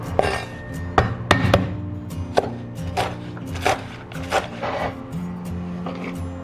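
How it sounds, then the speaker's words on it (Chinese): A knife chops garlic, ginger and dried chilies on a cutting board in a home kitchen. Sharp, close thuds come in irregular bursts, some louder and some lighter. "料头我们切一点大蒜跟生姜，然后干辣椒我们准备几根给它切一切。"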